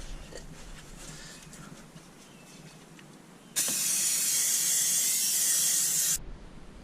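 A close, steady hiss of brake cleaner sprayed from an aerosol can onto the front brakes of a Jaguar XJ, lasting a few seconds against a quiet garage background before cutting off abruptly.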